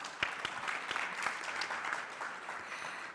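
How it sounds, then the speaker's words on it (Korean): Audience applause at a 2020 Herald Financial Forum panel session in Korea, a steady patter of clapping hands filling the hall at moderate distance, with no voices over it. "큰 박수 부탁드립니다."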